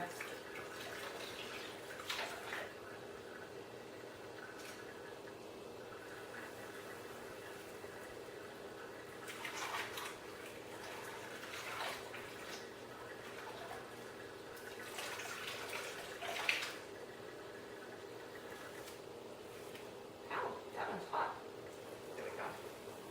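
Yarn is dipped a few times into a pot of dye water. Soft, faint splashes and sloshes come in scattered bursts over a quiet, hushed room background.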